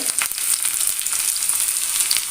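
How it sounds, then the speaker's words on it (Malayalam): Onion frying in coconut oil to temper a curry: a loud, close, constant sizzle with crackles, alone without talking. "കറിയൊന്ന് വറവിടണ്ടേ അതിന് വെളിച്ചെണ്ണയിലേക്ക് ഉള്ളി ഇട്ട് കൊടുത്തിട്ടുണ്ട്"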